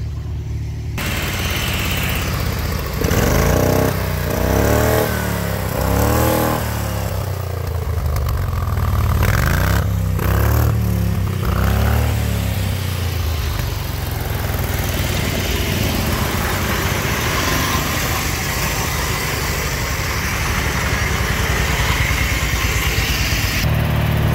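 Custom mud-racing lawn mower powered by a 7 horsepower Duramax engine in West Branch, Michigan, running loud and close with revving surges early on before settling into a steady rough idle-like drone.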